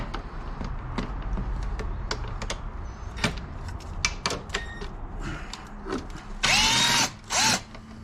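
Two 10 mm bolts come off the valve cover of a 2002 Honda Civic 1.7 L engine. Close, sharp clicks and ratcheting taps from hand tools and loose metal are followed by two short, louder buzzing bursts near the end.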